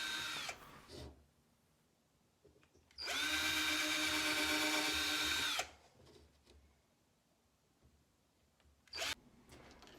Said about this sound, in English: I'm now pre-drilling those holes